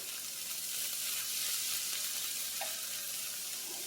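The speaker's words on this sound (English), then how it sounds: "let's stir this around real quick" Seasoned chicken fajita filling sizzles steadily in a hot pan while being stirred, a loud continuous close crackle with no talking.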